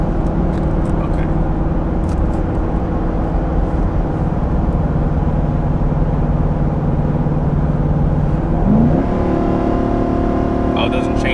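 A 2021 Nissan Titan XD pickup with a gas V8 and 9-speed transmission, towing a trailer up a 6% grade, drones steadily under load with a constant low engine hum, a gear shift heard late, while occupants talk over it.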